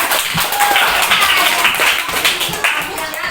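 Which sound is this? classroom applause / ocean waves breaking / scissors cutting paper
classroom applause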